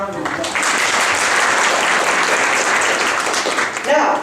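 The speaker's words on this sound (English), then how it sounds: "Let's give her a round of applause." A lecture audience bursts into a full round of applause that swells within half a second and holds steady and loud, with a brief voice surfacing near the end.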